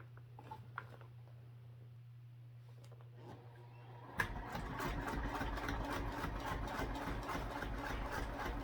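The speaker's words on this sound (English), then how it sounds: "And then I'll top stitch. I'll use a longer stitch length for that." A sewing machine topstitches through vinyl at a longer stitch length, starting after a few seconds of low hum and quiet handling, then running as a fast, steady mechanical chatter of stitches close by.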